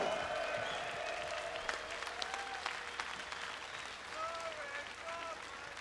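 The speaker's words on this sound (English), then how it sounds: "Give yourselves a round of applause." Festival crowd at the Bloodstock 2021 open-air metal concert applauds and cheers, a steady wash of clapping heard from a distance with faint tonal stage sounds ringing through it.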